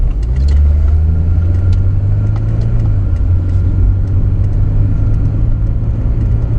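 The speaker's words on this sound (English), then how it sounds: "Let's see what full throttle gives us." A carbureted 90-horsepower BMW E30 316 pulls away from a stop at full throttle, its steady, loud engine drone heard from inside the car, rising only slightly in pitch with no audible gear change.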